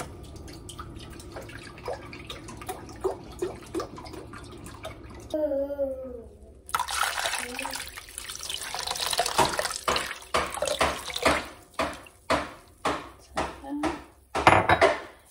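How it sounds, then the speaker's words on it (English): Chicken broth pours into a slow cooker holding brisket, a steady liquid rush followed by a run of splashy, rhythmic glugs and drips, fairly close, with no talk over it. "2 to 4 cups of chicken broth, just where it's covering the broth, so it's a little bit more."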